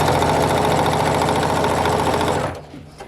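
Sewing machine running steadily as it stitches down quilt pieces on a scrappy pumpkin seed flower quilt, a loud continuous mechanical whir that stops abruptly near the end.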